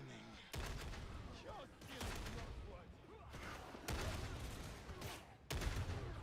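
Gunfire in Warhammer 40K Darktide comes in four or five separate bursts, each a dense rattle of rapid shots with short pauses between, loud and close.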